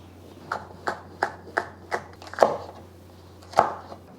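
A knife chops a small red sweet pepper on a cutting board to remove the seeds, giving about nine crisp, evenly spaced taps close up in a quiet kitchen.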